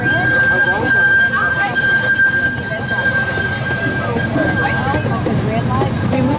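A zoo train ride at Birmingham Zoo rolls downhill with a continuous rumble of wheels and a sustained high brake squeal. People talk over the ride noise throughout.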